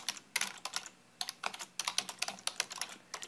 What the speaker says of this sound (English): I'm just going to type in Bob Smith